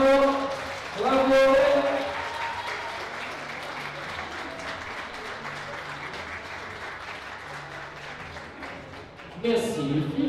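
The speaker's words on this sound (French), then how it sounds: "On peut les applaudir encore." An audience applauds female climbers at an indoor bouldering contest, steady clapping filling the room throughout, with a voice speaking over it near the start and again at the end.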